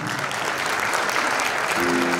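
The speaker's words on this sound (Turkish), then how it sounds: "Bir alkışlar mıyız?" An audience at a Turkish folk music event in Bayrampaşa applauds steadily, dense clapping held at an even level throughout with a faint voice briefly at the end.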